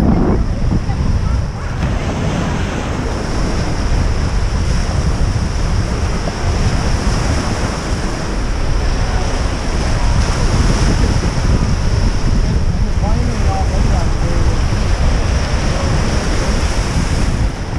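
Steady wind-driven waves of Lake Huron breaking at Point Farms beach, a continuous roar of surf with heavy wind buffeting the microphone throughout.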